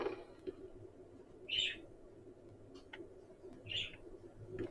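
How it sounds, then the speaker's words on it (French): Pet parakeets kept indoors give two short, bright chirping bursts, a couple of seconds apart, fairly faint over a steady low room hum. "il y a des oiseaux hein, chez moi. Enfin, on a des perruches."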